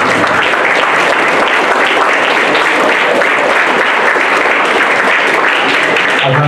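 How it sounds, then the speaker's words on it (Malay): Loud, continuous applause from a crowd at a national primary school unity camp closing ceremony, dense clapping filling the hall for several seconds. "Kita beri tepukan kepada anak-anak murid."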